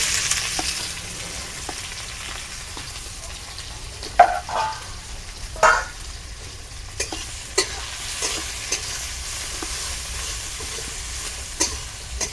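Onions frying in mustard oil in a village kitchen, a soft steady sizzle broken by several sharp scraping stirs and clacks of a spatula against the pan, close and clear with no talk.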